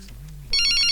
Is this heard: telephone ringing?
yes